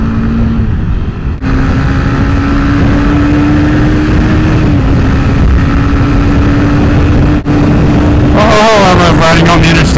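A motorcycle cruises on the interstate with a loud, steady engine drone and heavy wind rush close to the rider, with the engine pitch shifting slightly before a brief change near the end.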